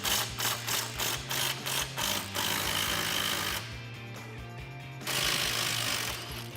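A ratchet wrench with an 18mm socket loosens the bottom shock bolt on a Dodge Challenger, clicking in quick, rhythmic bursts, then turning in a longer continuous run of metallic ratcheting, close and clear.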